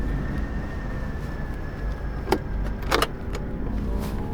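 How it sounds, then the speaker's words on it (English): A 4WD vehicle moves forward in convoy onto a snowy mountain pass track in Spain, with a steady low engine drone inside the cabin and a few sharp clicks and rattles, no talking. "edged the vehicles forward in convoy into the pass"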